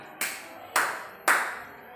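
Three sharp group hand claps at evenly spaced intervals during a classroom ice-breaking clapping game led by a teacher, each clap crisp and fairly loud with short decay, quiet in between.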